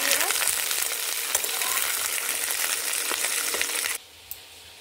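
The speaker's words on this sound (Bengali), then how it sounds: "ফুলকপিগুলোকে ভালো করে ভেজে নেব।" Cauliflower pieces frying in a pan with a little turmeric, a loud, steady close sizzle with occasional stirring clicks that abruptly drops to quiet near the end.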